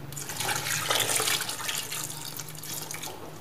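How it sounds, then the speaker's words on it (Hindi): Water poured into a pot of Pakistani restaurant-style beef karahi with tomatoes, green chilies and ginger-garlic paste, a close splashing pour that swells and then tapers off over a low steady hum. "पानी ऐड कर देना।"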